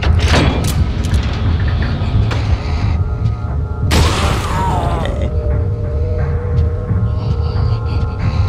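A large explosion in the video game Resident Evil 4 booms out loud and broad about halfway through, with a rumbling tail that fades over a few seconds amid ongoing game sounds and a steady hum.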